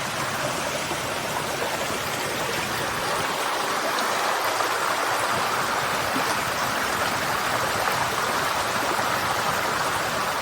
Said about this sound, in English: Just a little babbling brook.